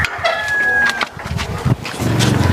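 A rooster crows with a sustained tonal call in the opening second, followed by scattered clucks and farmyard bustle, close and fairly loud with no talk.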